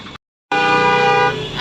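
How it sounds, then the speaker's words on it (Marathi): Car horns honk in heavy Mumbai city traffic near Prabhadevi junction, a loud sustained multi-tone blare that cuts in after a brief gap and holds steady, close and prominent. "खूप ट्रॅफिक आहे."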